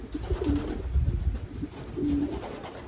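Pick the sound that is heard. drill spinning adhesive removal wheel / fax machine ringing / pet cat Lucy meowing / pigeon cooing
pigeon cooing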